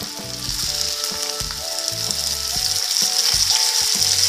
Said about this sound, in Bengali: এবার আমি টমেটোগুলো দিয়ে দিচ্ছি।